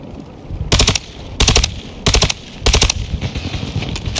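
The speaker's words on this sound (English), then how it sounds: "Yeah, they're shooting." Bursts of automatic gunfire in Call of Duty Modern Warfare 2 Resurgence, four loud rapid-fire strings of about half a second each at a steady rhythm, with quieter shots in between.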